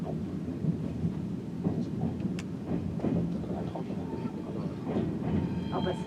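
Onboard rumble of a Ouigo TGV high-speed train running at speed: a continuous low roar with faint clicks and rattles, with a murmur of passenger voices in the background.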